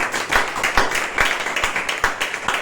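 A church congregation claps together in praise of Jesus during a sermon, a steady rhythm of sharp overlapping hand claps filling the room at moderate volume with a faint murmur beneath.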